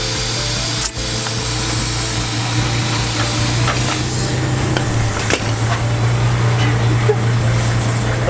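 Compressor pumping air into a car tyre, a continuous loud buzzing hum with a hissy texture that runs without a break, with a few faint clicks.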